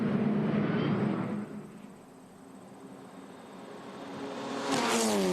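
FR Americas open-wheel race cars sweep past on the track, engine roar swelling loudly, fading into a distant hum, then rising again as another car approaches close by.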